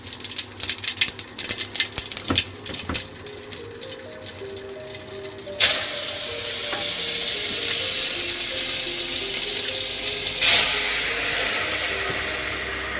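Cumin seeds hit hot oil in a village kitchen: a few seconds of utensil clatter, then a sudden loud, steady sizzle that surges again briefly near the end, close by with no talk.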